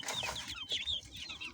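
Chickens cluck softly from a rooftop coop on a cool day, with several quiet, scattered calls overlapping at low volume.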